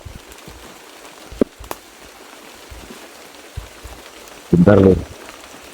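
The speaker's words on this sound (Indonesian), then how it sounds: "Hujannya tambah gede lur." Heavy rain pours steadily as a broadband hiss across the whole stretch, with a voice speaking briefly and a louder burst of talk near the end.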